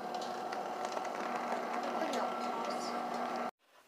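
A spin dryer runs with a loud, steady mechanical whir and hum, then cuts off abruptly near the end, leaving near silence.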